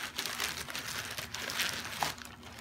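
Plastic packaging crinkling as a delivered parcel is opened, producing a continuous close-up rustle and crackle with small irregular bursts, faint and steady throughout.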